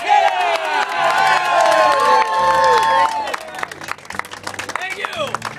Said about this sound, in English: can I hail a round of applause and cheer for your captain, Seamus Rumkin!